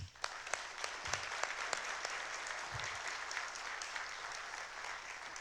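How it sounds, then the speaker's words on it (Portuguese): A theater audience at a motivational talk claps in sustained applause, steady and moderately loud throughout, with a few sharper individual claps near the start. "Salva de palmas."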